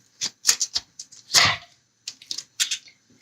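Knife slicing a cauliflower in half for cauliflower cheese, heard as a run of short crisp cracks and snaps close up, with one louder crunching split near the middle, no talking.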